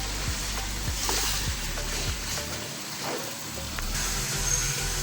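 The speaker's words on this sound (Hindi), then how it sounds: "अच्छे से इसकी भुनाई कर लेंगे इसमें" Chicken pieces sizzle and crackle steadily in a hot pan while being stirred, with scraping knocks of the spoon repeating every second or so, close and fairly loud throughout.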